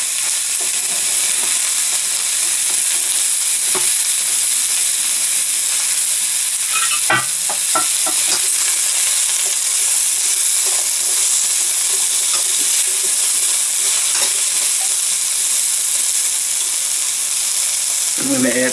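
Spicy chicken sizzles and fries loudly in a hot pan, a dense continuous hiss broken by a few clicks and scrapes of stirring, close and steady throughout.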